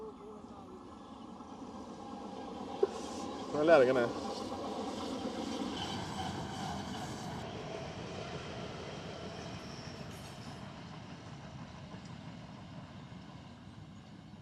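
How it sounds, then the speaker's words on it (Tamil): A train rumbles past at a bird sanctuary in Jaffna, a low steady rolling drone that swells and lingers, with someone talking briefly early on and birds calling faintly. "ட்ரெயின் ட்ரெயின் இன்னும் இந்த வியூவை பாருங்க ட்ரெயின் வருது"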